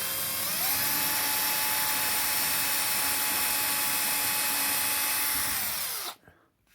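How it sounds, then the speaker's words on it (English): A power drill whines steadily at high pitch while boring through plasterboard, then winds down and stops near the end. "Don't wiggle the drill around in the hole too much."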